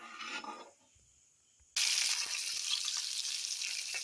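Cashews and raisins fry in ghee in a pan. After a quiet pause the sizzle starts abruptly and stays loud and continuous, with faint stirring clinks.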